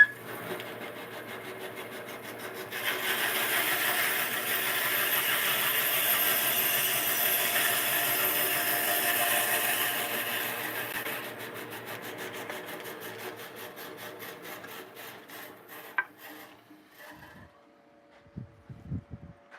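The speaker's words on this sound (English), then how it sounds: "Let's get this thing cut. Over here, the bandsaw." A bandsaw cuts through a knife blank, its broad steady rasping whine holding for several seconds before tapering off, followed by a few sharp knocks and clatters near the end.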